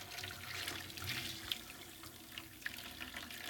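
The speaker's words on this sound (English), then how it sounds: "The water is here. I'm going to add it slowly into the plate." Water pours slowly into a plate holding aluminum foil for polishing tarnished silver, a faint, steady trickle and gurgle with a couple of small splashes, close by and quiet.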